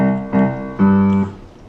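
A short computer-generated bass line plays back as two sustained synthetic notes with a brief gap between them, the second one held before a quick decay.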